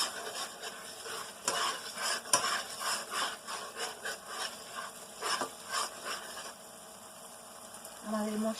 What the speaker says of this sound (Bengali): আমাদের মশলাটা কষানো প্রায় হয়ে আসছে